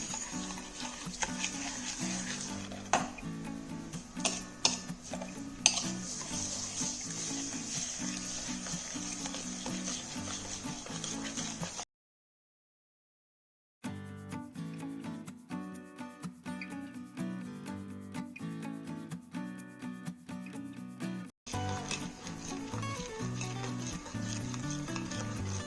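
Vermicelli with sugar is stirred in a pan, a steady scraping and rubbing with soft sizzle close up, broken by a short silence and then resuming alone.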